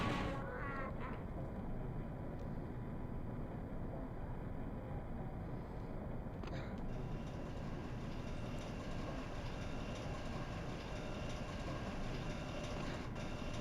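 In the video game Shadows of the Empire, a hover train produces a continuous rushing, rattling rumble with a high whine overhead and a brief clank partway through.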